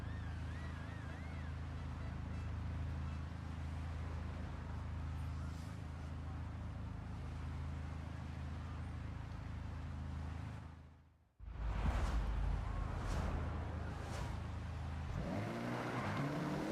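A Mitsubishi car engine drones steadily while driving in Forza Horizon, mixed with water and wind-like rushing noise; the sound cuts out briefly near the end, then returns with a revving surge and faint talk.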